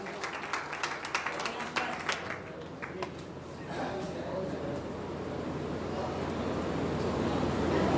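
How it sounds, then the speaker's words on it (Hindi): Audience applause welcoming a poet at a mushaira in Mirzapur, with scattered sharp claps at first that swell into a steady, dense wash of clapping from a large crowd. "तालियों की गूंज में आप उनका इस्तकबाल करें।"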